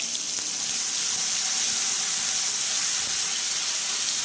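Chopped tomato and ginger paste sizzle in hot oil in a pan for a vegetarian paneer kalia, giving a steady, close, hissing crackle throughout with no voices.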